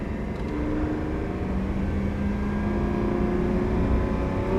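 A 2022 Lamborghini Aventador SVJ Roadster engine droning steadily at high revs, a loud continuous roar with a rising tonal whine, close up and without speech.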